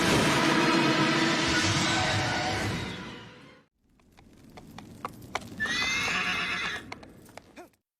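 A horse in Shadow of the Colossus gives a loud, long whinny, then after a brief pause comes a rhythm of hoof clip-clops with a second, higher neigh near the end.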